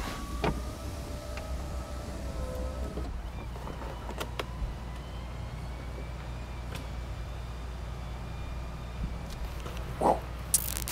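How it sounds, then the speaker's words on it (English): The convertible top of a 2023 BMW Z4 M40i lowers with a faint electric motor whine and a few mechanical clicks, settling into quiet low rumble near the end. "the most important piece here is how fast is this convertible top, and it does it in 10 seconds"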